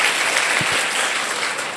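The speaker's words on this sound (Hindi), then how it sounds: "तालियां बजा दो आप सब लोग।" Applause from a school audience at a Saraswati Vidya Mandir event, a dense steady wash of many hands clapping that fills the short moment at constant loudness.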